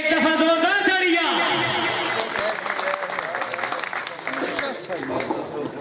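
Loud, sustained audience applause at a mushaira poetry recital in Chakwal, a dense wash of clapping with crowd cheers and shouted voices on top, a voice heard singing briefly at the start.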